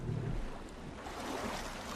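Swimming through water in the dungeon-crawler game Legend of Grimrock 2, with a steady, full-band rushing wash and a low churning rumble early on, close and moderately loud, with no talking.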